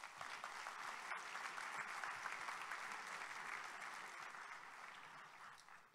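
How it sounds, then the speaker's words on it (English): An audience at a devopsdays conference in Minneapolis applauds a speaker, dense steady clapping for about six seconds that eases slightly toward the end, with no talking over it. "One more round of applause for Amy Chen"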